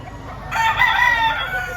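A banded early-bird gamecock rooster at the Lipa market crows once, nearby and clearly, with a drawn-out cock-a-doodle-doo rising above a quiet background of market murmur.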